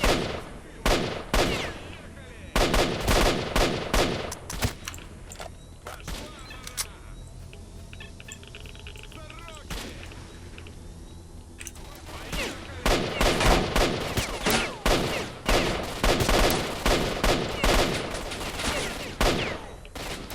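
Rifle gunfire in S.T.A.L.K.E.R.: Shadow of Chernobyl, loud sharp shots fired down range in quick bursts and rapid strings, with a quieter stretch midway before heavy firing resumes.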